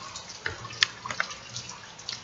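Rain falling at night on a street beside a field, scattered drips and splashes popping irregularly over a soft wet hiss, moderately close.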